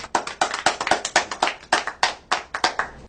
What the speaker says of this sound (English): I think a round of applause is in order for that